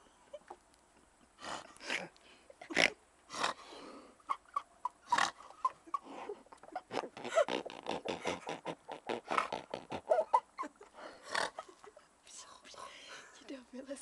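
A person imitates a pig, making a close, irregular run of breathy snorting grunts with short pauses, mixed with soft whispery breaths.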